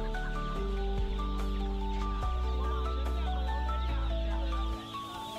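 Chickens and other fowl, including small turkeys and guinea fowl, cluck and squawk steadily at a weekly Friday market in Pallavaram, with overlapping calls close by and no talk.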